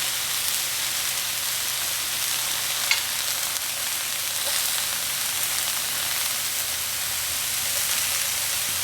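The white parts of onions are added to a chicken stir fry for moo goo gai pan, giving a loud, even, continuous sizzle close by, with one faint knock early on and no voices.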